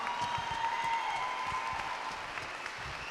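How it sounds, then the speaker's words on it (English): Audience applause at a convention closing ceremony, a steady wash of many hands clapping from the crowd, continuous and moderately loud throughout. "a huge round of applause for Sean"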